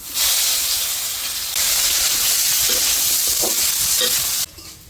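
Chopped onions hit hot oil already spiced with cardamom, cinnamon and cumin, and a loud, steady sizzling hiss rises close by. It holds for several seconds, then drops off sharply near the end.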